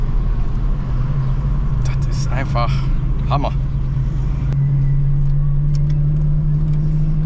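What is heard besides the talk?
Ford Capri 2600 RS driving and accelerating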